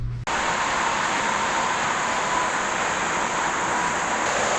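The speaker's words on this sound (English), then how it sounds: "Probably not going to be able to hear me because of the interstate traffic." Steady roar of interstate highway traffic close by, a continuous broadband wash of passing vehicles with no breaks, filling the whole stretch outdoors in Tennessee.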